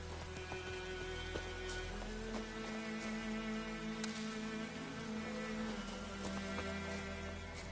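Steady rain falls in the open world of The Witcher 3 on PS5, a soft continuous patter with scattered droplet ticks under a low ambient hum, even and unbroken throughout with no voices.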